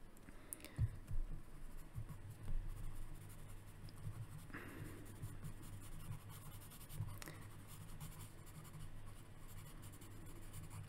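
A pencil scratches across paper while drawing the Predator, producing faint, steady scraping strokes with a few soft taps, close and quiet throughout.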